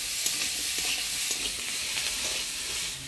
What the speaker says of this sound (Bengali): আলু বেগুনটা একটু ভাজা ভাজা করে নিলাম।